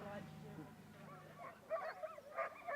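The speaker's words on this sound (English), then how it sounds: "And the dogs are raring to go. Always a lot of noise at the start." Several sled dogs yip, whine and bark excitedly together at moderate distance at the start of a one-dog bikejoring race, their eager noise building toward the end, with a voice speaking over them.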